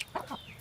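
Chickens clucking at a house, a couple of short quick clucks close by, faint and brief against a quiet background.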